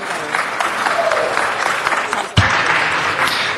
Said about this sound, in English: A round of applause for our commissioner.